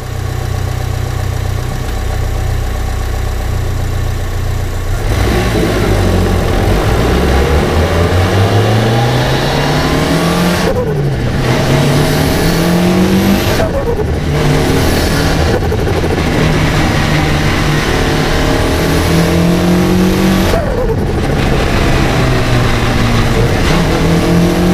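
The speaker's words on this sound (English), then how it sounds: "let's go take the EVO for a drive and make sure it doesn't explode or shoot off into the moon" A Mitsubishi Lancer Evo 6 idles with a low rumble, then drives off, its engine revving up repeatedly through several gears with rising pitch sweeps and brief dips between shifts, loud and close.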